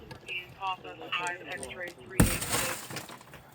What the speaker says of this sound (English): you can take that and punch the glass the rest of the way in